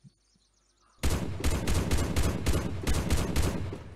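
USSR mod automatic rifle fire in the video game Unturned, a sudden loud burst of rapid, evenly spaced shots after a second of near silence, close and punchy.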